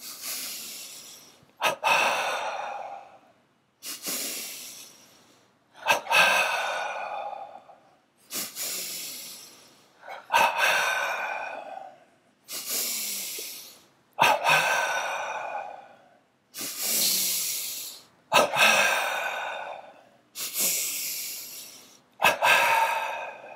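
Deep, slow breaths repeat about ten times during a guided non-duality meditation. Each long inhale and exhale is close and full, with short pauses between them and no talking.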